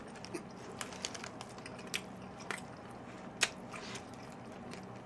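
Someone bites into and chews a Lotteria classic burger with no vegetables, making soft close-up squishy chewing with a few sharper bite and crunch clicks at irregular intervals, quiet and with no talk.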